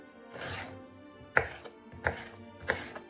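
A knife chops pineapple for pickle on a board, three crisp, close chops spaced about two-thirds of a second apart after a softer scrape, with no talking.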